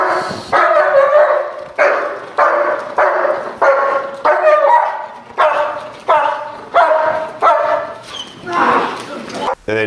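A protection dog barks loudly and repeatedly during training, a steady series of close, forceful barks spaced about half a second apart, with a whimpering, yipping edge toward the end.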